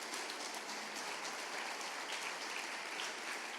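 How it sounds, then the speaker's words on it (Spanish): A church congregation applauds during a morning service, an even, dense patter of many hands clapping at steady volume, with no voices audible. "Dale un aplauso al Señor esta mañana."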